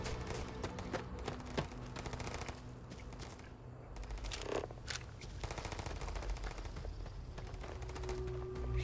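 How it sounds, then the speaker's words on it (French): Rapid automatic gunfire crackles steadily through a Starfield firefight, fairly quiet and dense, with occasional sharper reports standing out over a continuous rattling backdrop. "Ils tirent sur tout ce qui bouge"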